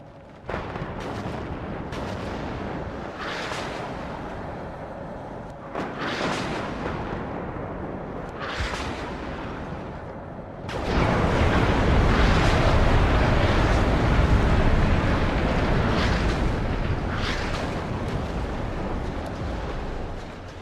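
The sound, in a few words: artillery fire flying overhead in video game WARNO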